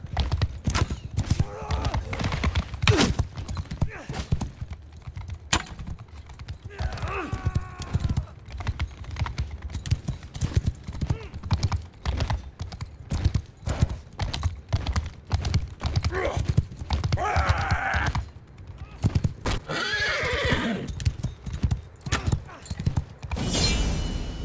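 Horses clip-clopping at a gallop in Mount and Blade 2: Bannerlord multiplayer, steady hoofbeats throughout with a few whinnies rising near the middle and end, mixed with battle noise and some talk.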